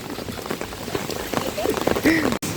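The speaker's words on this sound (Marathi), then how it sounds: "गाईस तर बघू शकता किती पाणी पडतंय." Heavy monsoon rain pours down in a flooded village, a dense, continuous patter and splash close by, with a voice talking over it.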